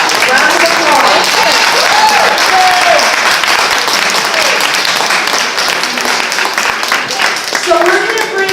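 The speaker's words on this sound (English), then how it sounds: "Round of applause." Loud, sustained applause from a crowd at an outdoor protest rally in Philadelphia, dense clapping filling the whole stretch with scattered voices and shouts mixed in.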